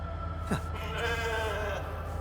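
A sheep in The Alters lets out one clear, wavering bleat at moderate level over a steady low in-game hum and music bed.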